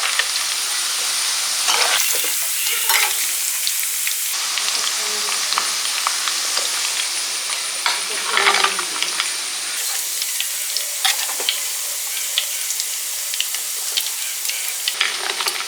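Chicken pieces coated in cornflour and maida sizzle and crackle steadily in hot oil, with occasional stirring clinks and spatters over a continuous frying hiss.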